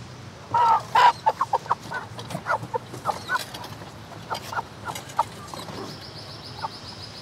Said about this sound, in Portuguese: Isso é um galo!